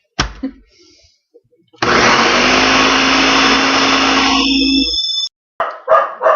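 A blender whirs loud and steady for about three seconds as it blends frozen banana nice cream with almond flavour, framed by short clatters and handling noises before and after.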